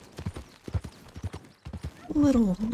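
Horse hooves clip-clop at a steady walking rhythm in Red Dead Redemption 2, close and distinct, with a short neigh near the end.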